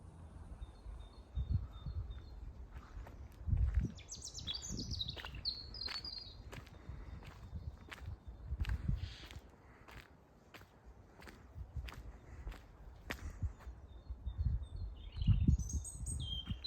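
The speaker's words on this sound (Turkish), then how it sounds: "Cıvıl cıvıl sesleri duyabiliyorsunuz." Small birds chirp and tweet in a Sarıyer forest, scattered high calls coming and going at moderate distance over soft rustling and low rumbling ambience, with a few sharp clicks.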